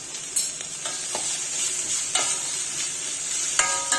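A medium-sized tomato sautéing with salt in a pan for broccoli soup, a steady bright sizzle broken by a few scraping stirs of a spoon, close and alone without speech.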